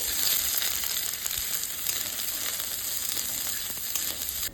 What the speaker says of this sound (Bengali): এই তেলেতেই পেঁয়াজগুলোকে দিয়ে দেবো